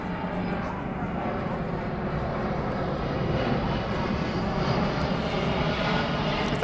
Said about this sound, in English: There's a plane coming by.